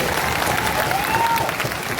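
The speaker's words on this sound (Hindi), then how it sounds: "एक बार इनके लिए जोरदार ताली बजाइए।" A crowd at a state-level meeting in Gyan Bhawan, Patna claps loudly and continuously, a dense wash of hand claps filling the hall with no voices over it.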